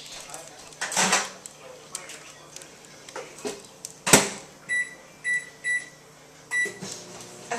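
A microwave oven heats a bowl of rice in a home kitchen, with a soft hum, a few clunks and door sounds, then a short run of bright electronic beeps; someone speaks briefly.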